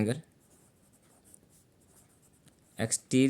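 Pen or chalk writing out an exterior angle equation, a faint scratchy stroke sound running quietly for a few seconds, with a voice speaking briefly at the start and again at the end.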